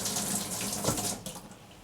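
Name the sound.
kitchen tap spraying water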